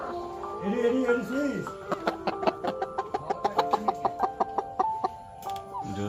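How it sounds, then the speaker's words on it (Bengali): Layer hens in a poultry shed of about twelve hundred birds cluck in a quick run of short, repeated calls, fairly close, after a brief vocal sound at the start. "লেয়ার মুরগি"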